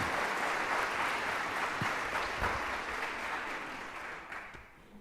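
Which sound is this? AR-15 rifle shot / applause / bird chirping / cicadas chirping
applause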